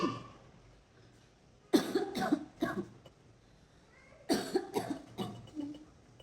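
A small child gives two bursts of coughing, each a quick run of three or four harsh coughs, separated by a quiet pause, close and fairly loud.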